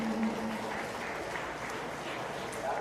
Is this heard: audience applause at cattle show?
yes